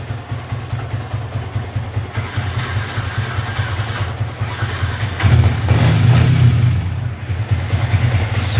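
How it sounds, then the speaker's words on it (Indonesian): Yamaha Vixion motorcycle with Surabaya plates idling steadily, a continuous low engine rumble that swells louder around the middle, as if the throttle is blipped or another bike nearby is running, with no voices over it. "Semua motor hidup."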